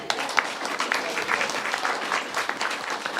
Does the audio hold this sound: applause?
yes